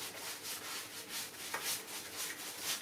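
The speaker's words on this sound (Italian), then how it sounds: "Applichiamo la gomma lacca." Shellac being rubbed by hand onto wooden furniture during a final coat, a soft, steady swishing of a pad on wood with rhythmic strokes, faint and close.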